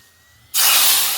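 Hot tempering of chilli and curry leaves is poured into a pot of curry and bursts into a loud, sustained sizzle after a brief quiet moment, then slowly fades a little while hissing on alone.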